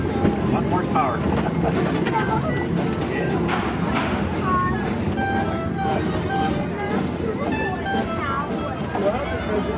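Small boat with a 1-horsepower motor on a theme-park ride, a steady engine drone and water wash running continuously beneath background crowd chatter and people talking.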